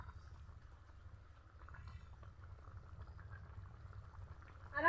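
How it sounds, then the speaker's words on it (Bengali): Chicken and mung dal bubbling in a covered pot, a steady low simmer with soft burbling and occasional pops, continuous and moderately close, with a brief clatter at the end. "আর কিছুক্ষণ সিদ্ধ করে নিতে হবে।"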